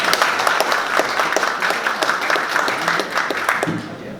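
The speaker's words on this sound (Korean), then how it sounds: "큰 박수로 환영해 주시면 감사하겠습니다." An audience at a plastics forum gives the incoming speaker a warm round of dense, close clapping that holds steady for about four seconds before tapering off.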